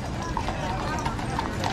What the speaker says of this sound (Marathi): हे पहा घोड्यांच्या टापाना मला लिटरली वेगळ्या वाटतं.